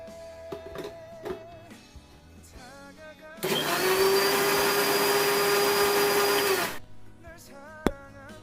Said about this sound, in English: Let's grind all the ingredients.